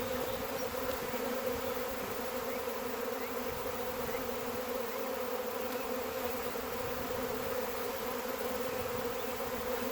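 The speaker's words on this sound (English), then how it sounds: "All these bees in the air." Loud, unbroken buzzing of a large honey bee swarm surrounding the listener, a constant droning hum with no talking.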